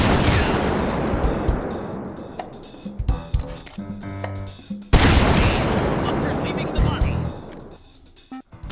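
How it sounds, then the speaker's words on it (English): In the game H3VR, the Canned Meat fragmentation rocket goes off as two loud booming blasts with long rumbling decays, with crackling debris-like bursts in the gap between them. "Canned Meat is a fragmentation rocket that deals its damage through shrapnel rather than the explosion"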